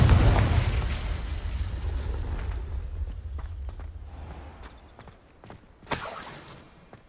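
Confringo fiery explosive spell cast in Hogwarts Legacy, a booming burst at the start that decays into rubble-like crackle and scattered impacts, followed later by a sharp crackling pop.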